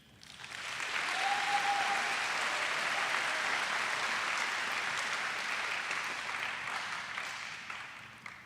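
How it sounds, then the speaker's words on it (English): An audience at an upper school awards ceremony applauds as students come forward, giving a steady, sustained wash of clapping for about eight seconds that fades slightly near the end. "We can applaud them as each come forward"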